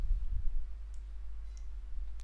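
Computer mouse clicking while working in PowerMill drilling software, three faint sharp clicks spaced apart over a low steady hum.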